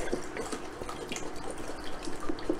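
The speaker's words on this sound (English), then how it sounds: "So I'm going to add a little bit of water just for the difference." Water added to a soup pot of vegetable stock for white bean soup, a steady running and splashing pour heard up close without speech.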